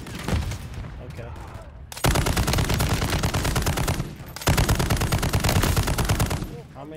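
Sustained automatic gunfire from Call of Duty Modern Warfare 3 campaign combat, dense rapid bursts in two long loud stretches with a brief lull between, close and continuous with no talk over it.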